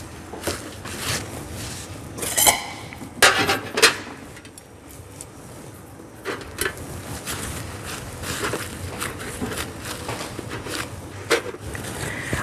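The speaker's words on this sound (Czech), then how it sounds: "teď si dám na plech mističky a na každou mističku dám palačinku." Ramekins are set down on a metal baking tray and crepes pressed into them, giving irregular hard knocks and clunks with softer rustling and handling noises between them, fairly close.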